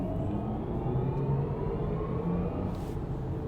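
A smooth, synthetic whirring hum swells as a BMW electric car accelerates in comfort mode, a futuristic electronic drone layered over low road rumble, steady and close.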